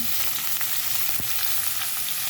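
Onions, green chillies and capsicum frying in a pan with cumin, giving a steady close sizzle with a few faint stirring scrapes and no voices.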